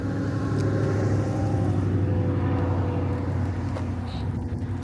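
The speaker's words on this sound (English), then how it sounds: "motor sounds really good in this" Classic Ford with an all-steel body idling at a car show, a steady rumbling engine note that runs loud and continuous throughout, with a few faint chirps near the end.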